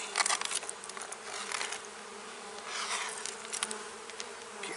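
Honeybees swarm around an open beehive, a close, continuous buzzing drone that swells and fades as individual bees pass, with no talking.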